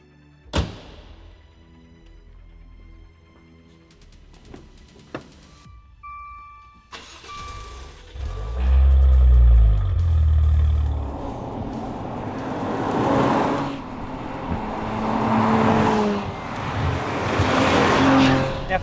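A 2018 Maserati Levante S engine, Ferrari-built in Maranello, starts with a short bark, then settles and swells into loud, rising revs and a sustained roar with a growling exhaust note.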